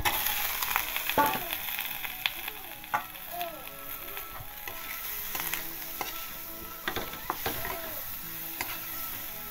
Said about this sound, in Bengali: ভাজা আলুটা দিয়ে দেবো।